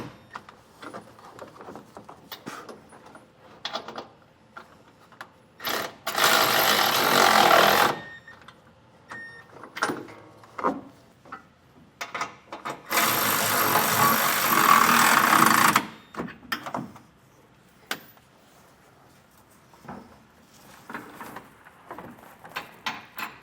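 A power tool whirs in two sustained bursts of a few seconds each as hex bolts are tightened on a truck frame, with scattered clanks and handling knocks between them.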